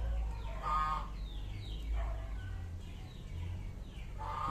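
A hen clucks loudly and repeatedly nearby while laying eggs, giving a rhythmic series of sharp calls over a low background hum.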